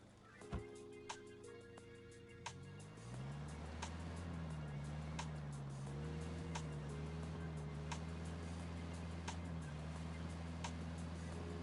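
A vehicle engine in the video game Ghost Recon Wildlands starts up and hums along steadily, with its pitch wavering slightly. Faint clicks and taps sit over the soft, low drone.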